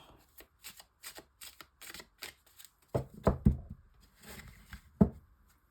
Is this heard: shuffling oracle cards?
yes